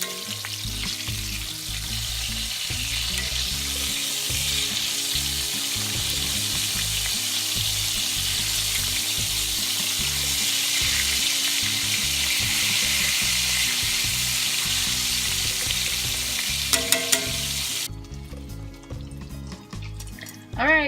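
Deer tenderloin pieces fry in a pan with a loud, continuous sizzle and crackle that holds steady throughout, then ends with a few clanks and handling noises.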